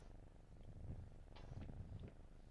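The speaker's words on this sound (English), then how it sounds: "Oh my god, the cat's here." A cat in the horror video game Layers of Fear purrs softly and steadily, a low rumbling purr close by but faint, with no talking.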